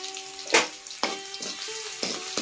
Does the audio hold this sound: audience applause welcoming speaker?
no